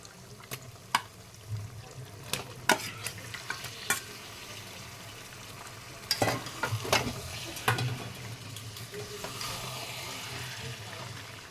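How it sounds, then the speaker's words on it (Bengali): Chicken marinated in yogurt, ginger-garlic paste and lemon juice fries in a pot, a soft steady sizzle with scattered scrapes and clinks of stirring, fairly quiet and without speech. "এবার ওই ম্যারিনেট করা চিকেনটা দিয়ে দেবো"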